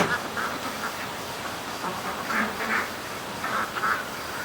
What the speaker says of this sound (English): I'm going to feed the ducks